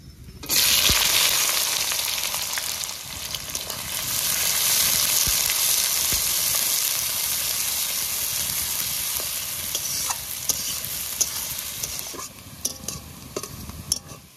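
Onion dropped into hot oil with cumin seeds and bay leaf over fried potatoes, cooking for a home-style duck curry: a sudden loud, steady sizzle with occasional stirring and utensil clinks, fading slightly toward the end.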